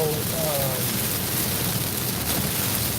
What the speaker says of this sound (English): this is really raining hard